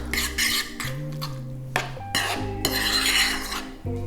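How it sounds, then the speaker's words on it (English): Cucumber yogurt salad with dill being mixed in a bowl: a spoon clinks and scrapes against the bowl in quick, uneven strokes, close and clear, with ringing tones from the dish and no talking. "And then I'm just gonna mix it up and it's done."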